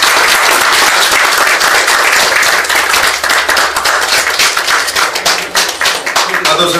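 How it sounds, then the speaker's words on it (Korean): Loud, sustained applause fills a hall at an award presentation during a civic history-education network's general assembly. Dense, even clapping from a sizeable audience continues throughout and thins slightly near the end. "다시 한번 축하의 박수로"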